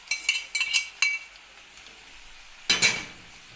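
Red and green peppers hit a frying pan with a few quick metallic clinks and scrapes of a utensil, then a louder sizzling, clattering burst near the end, close and fairly quiet, with no talk.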